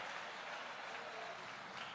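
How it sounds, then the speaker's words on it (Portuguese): A church congregation claps together in steady, dense applause, a continuous wash of hand claps filling the room at moderate level without pause. "Você pode aplaudir ao Senhor e glorificar a Ele."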